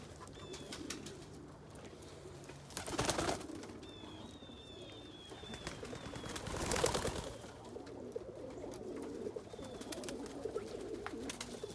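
Roller pigeons, including a young brown bald-head roller hen, coo softly in a low steady murmur, with small bird chirps and a couple of louder rustling bursts, no speech.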